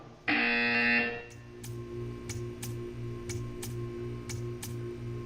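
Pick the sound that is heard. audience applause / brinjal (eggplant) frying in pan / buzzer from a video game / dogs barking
buzzer from a video game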